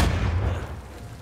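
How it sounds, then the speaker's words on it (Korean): A grenade blast in the video game Uncharted 4, one heavy low boom right at the start that rumbles and slowly fades, with nothing else over it. "오케이 수류탄 날라오죠?"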